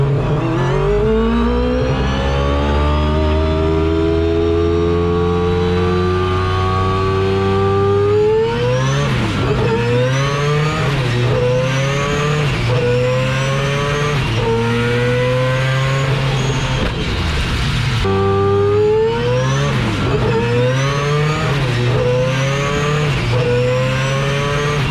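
A four-rotor race car screams as it accelerates hard, engine pitch sweeping upward, then several sharp gear shifts each bring a brief drop before the rising howl resumes, loud and close.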